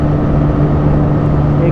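Two 125 cc motorcycles, a Hero Xtreme 125R and a TVS Raider 125, drag racing side by side at speed, giving a loud, steady engine drone with wind rush throughout.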